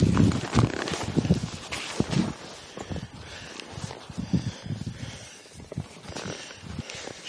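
Horse hooves clop slowly on the ground as a horse is asked to move during mounting, a few irregular steps close by with some rustling and shuffling between them.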